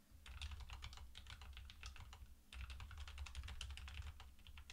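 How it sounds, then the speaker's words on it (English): Fast typing on a mechanical keyboard gives crisp, clicky keystrokes in two dense bursts separated by a brief pause, heard up close with no other sound. "Next up are typing sounds from a mechanical keyboard."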